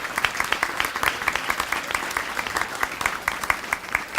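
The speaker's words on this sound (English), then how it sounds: "Please give a round of applause to all of our presenters today." Audience applause for the presenters at an MLK event on race, a steady dense patter of many hands clapping at moderate loudness for several seconds, with no voices.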